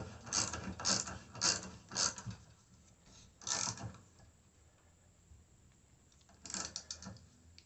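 A tap wrench turns a metal-cutting tap to thread a hole in metal lubricated with WD-40, giving a series of close, crisp ratcheting clicks in short bursts with quiet pauses between them.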